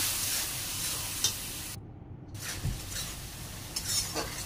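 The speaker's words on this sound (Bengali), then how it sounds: "সামান্য একটু জল দিয়ে কষিয়ে নেব।" Spice paste sautéing in a pan with a little water, a soft, steady sizzle with faint stirring scrapes and a brief dropout in the middle, with no talking.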